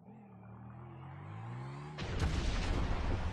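An orbital cannon blast in GTA Online, a rising charging drone with layered tones that breaks into one loud, broad explosive roar which sustains to the end.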